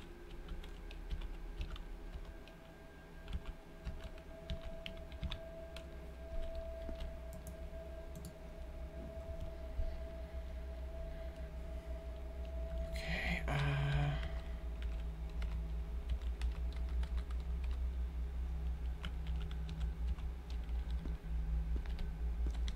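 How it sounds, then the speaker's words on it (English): Keys pressed on a computer keyboard during an SCP Containment Breach Unity Remake game session, faint scattered clicks under a steady low game hum, with a brief louder burst near the middle. "I'm gonna press every button on my keyboard"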